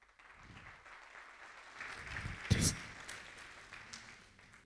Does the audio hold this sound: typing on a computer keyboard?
no